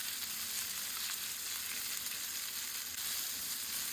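Corn kernels frying in a pan for a Ramadan iftar dish, giving a steady, close hiss and crackle of sizzling oil that holds evenly throughout with no voices.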